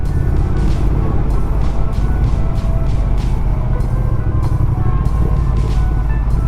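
A Triumph Speed Twin 900 motorcycle rides with a loud, continuous engine drone and wind rumble close up, small shifts in tone marking gear changes throughout.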